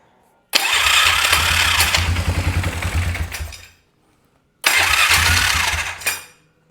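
A 2001 Polaris Scrambler 500 2x4 ATV engine cranks and catches, running loud and close with a throbbing idle for about three seconds before cutting out. It then starts again for a short second run and stops.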